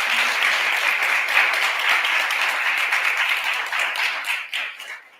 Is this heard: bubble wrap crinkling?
no